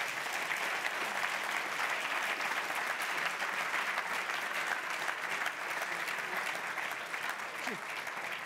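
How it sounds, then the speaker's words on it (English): An audience at an award ceremony gives a round of applause for three awardees, dense even clapping sustained throughout at moderate distance with no voices over it. "A round of applause for them, please"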